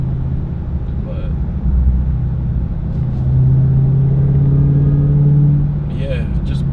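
Low engine rumble from a 2022 Dodge Charger Hellcat widebody cruising on light throttle, a steady close drone with slight swells, heard from inside the car; a voice speaks over it now and then.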